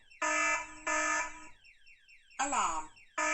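Hikvision AX Pro wireless intruder alarm system sounding during setup: loud electronic alarm bursts repeat with short gaps, one of them warbling and sweeping in pitch, while a faint voice murmurs underneath.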